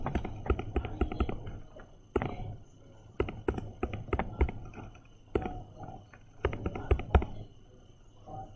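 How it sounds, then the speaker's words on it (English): Numbers are tapped into a computer keyboard in quick clusters of sharp, close clicks. Short pauses separate the bursts. "So we'll go and type them in."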